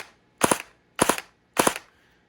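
Krytac Kriss Vector airsoft electric gun fired in two-round bursts: three short, sharp double cracks, evenly spaced and close by, with no talk.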